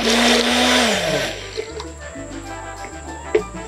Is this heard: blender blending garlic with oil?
yes